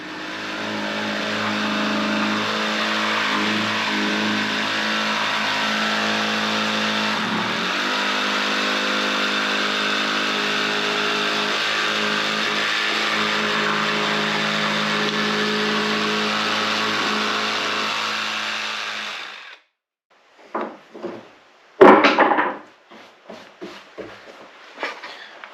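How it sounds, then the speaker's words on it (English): A jigsaw cuts angled boards for the wall of a wooden firewood shed, a loud steady buzzing drone for about twenty seconds that then stops, followed by a few knocks and clatters of wood. "I used my mellow jigsaw to cut that with"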